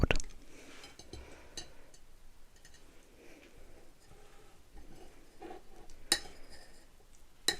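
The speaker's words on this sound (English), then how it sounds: "I know I'm using a knife on a plate" Scattered light clinks and scrapes of a knife against a plate, with a few sharper taps standing out over a quiet background.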